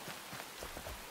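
Steady in-game rain in the survival game Enshrouded patters as a soft, continuous hiss of drops on surfaces, brief and even, with no voices.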